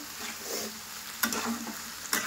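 Food fries in a pan with a steady bright sizzle, punctuated by a couple of sharp spikes as it is stirred, close and alone without talk.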